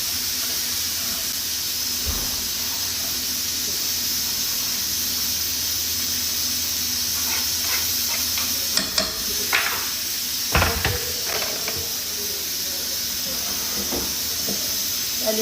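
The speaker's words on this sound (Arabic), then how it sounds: "بقلي البصلات بالأول، بعده بنحط البندورة" Onions fry in a pan with a continuous soft sizzle and hiss, broken by a few brief clinks and stirring knocks.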